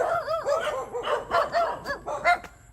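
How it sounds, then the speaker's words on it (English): A white dog at a rural home in the Philippines barks repeatedly in quick, rhythmic woofs at passersby, fairly close and clear, with some bamboo nearby. "Barking at us"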